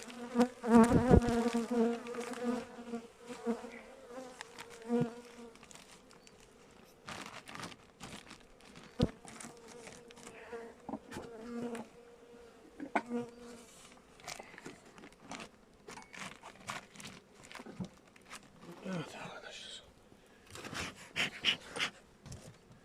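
Honeybees buzz up close in wavering drones, mixed with rustling and scraping sounds of handling at a weak hive in December, fading in and out.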